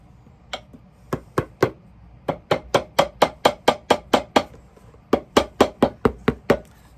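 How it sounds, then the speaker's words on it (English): A leather sole being hammered onto a shoe welt, with about twenty sharp, close blows coming in steady bursts separated by brief pauses and no talking. "you hammer the sole to the welt"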